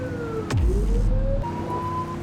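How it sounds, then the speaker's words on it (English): A wailing police car siren in a video game sweeps up and down in pitch as a car engine revs, with a sharp click partway through; fairly loud, no voices. "Turn that siren off."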